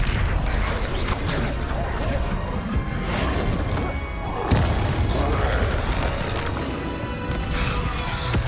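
Fiery spell explosions from Confringo in Hogwarts Legacy, a dense run of loud booming blasts and crashes layered over constant game effects, with one sharp impact standing out midway.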